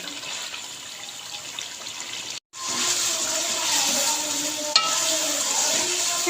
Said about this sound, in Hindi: 3 से 4 मिनट इसको मज़ीद हम फ्राई करेंगे